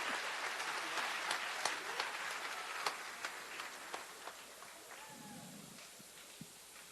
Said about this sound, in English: Let's give them one more big round of applause for our class of